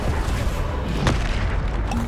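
Bombarda explosion spells going off during a Hogwarts Legacy duel, heard as a steady rumble of booming blasts with one sharper burst in the middle and no clear talking.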